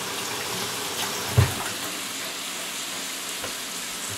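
Steady broadband rush of tap water running continuously in a home kitchen during cooking, a hand-washing stream, with one brief low thump near the middle.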